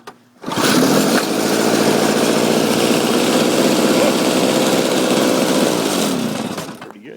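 A small Toro 200 snow thrower engine starts up and runs steadily for several seconds at a loud, close, buzzing pitch, then begins to wind down near the end.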